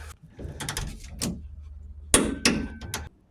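A torque wrench tightens the rear shock bolts on a Ford F150 to 66 foot-pounds, making sharp, close metallic ratchet clicks and clacks in irregular bursts with short pauses between them.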